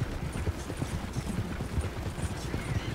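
Horse hooves clip-clop in steady rhythm through the Red Dead Redemption video game as a silver mare or other mount travels at a trot, close and continuous throughout, with no talking.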